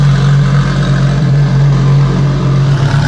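A Ferrari LaFerrari idles with a loud, steady, deep engine drone, unbroken and close by for the whole stretch.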